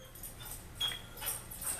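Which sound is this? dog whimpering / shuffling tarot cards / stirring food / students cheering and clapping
dog whimpering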